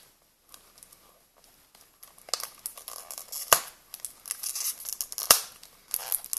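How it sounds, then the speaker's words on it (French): Plastic wrapping being torn and wrestled off a beauty product by hand without scissors: quiet crinkling at first, then a run of louder crackling tears and crumples with a couple of sharp snaps. "est-ce que je vais arriver à l'enlever du plastique?"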